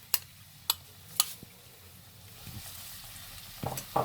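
Blended tomato paste hits a hot pan for tofu makhani and sizzles softly, a low steady frying hiss with a few sharp clicks and taps from a utensil, close and quiet, no talking.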